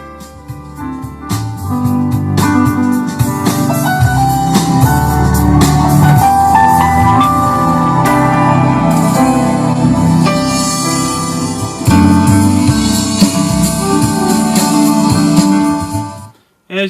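Music plays loudly and continuously through the Alpine stereo speakers on a 1987 Sea Ray Sorrento S24 SXL boat. The full band sound carries close and steady for about sixteen seconds, then cuts off abruptly at the end.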